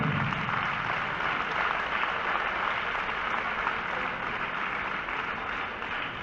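Audience applauding steadily at a professional pala corta final, a dense, continuous wash of clapping that holds at an even level throughout, with no talk over it.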